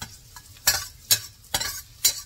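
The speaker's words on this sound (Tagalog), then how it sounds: "Lalagay ko na yung bawang, oh. Narinig mo, basta sumasagitsit. Sumasagitsit na, oh." Chopped garlic sizzling in hot melted fat in a pan while a utensil stirs it, giving four sharp scraping bursts over a steady close frying hiss, with no talking.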